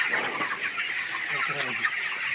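Broiler chickens on a poultry farm in Trishal, Mymensingh cluck and murmur continuously, a close, busy flock chorus without pause.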